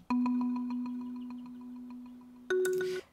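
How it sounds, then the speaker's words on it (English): Rendered marimba pluck patch playing a chord: a sustained tonal note with a faint rapid ticking texture that fades slowly, then a brighter second chord strikes near the end and cuts off abruptly, with no talking. "Here's the pluck sound."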